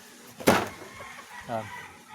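A hen gives a loud squawk followed by a softer cluck a second later, close by, with quiet background noise.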